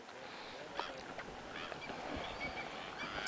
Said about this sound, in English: The ones flying are flamingos.